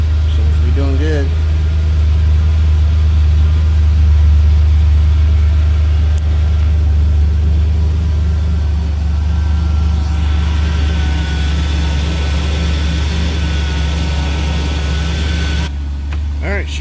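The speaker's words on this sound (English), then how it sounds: "she sounds like she's running like a top" A Ford Ranger's 4.0 V6 idles steadily through a Flowmaster muffler, a low, even rumble running unbroken near the microphone, with a voice speaking briefly at the start.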